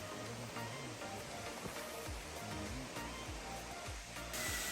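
Buruwisan waterfall in Laguna, Philippines pours as a steady, broad rush of water that continues without a break, faint and even with no voices.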